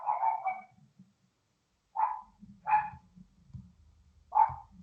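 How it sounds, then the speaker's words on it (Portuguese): A dog barks indoors in a few separate bursts with pauses between them, moderately close, and no one talks over it. "Vocês estão escutando meu cachorro latir aí?"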